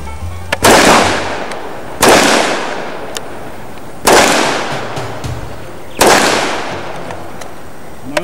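Gunshots at a practical shooting match, four loud, sharp reports spaced about one and a half to two seconds apart, each with a long ringing echo tail, with no talking.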